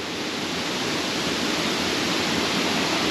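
Nebraska's highest waterfall roars as a steady, dense broadband rush of falling water, close and loud, constant without break throughout.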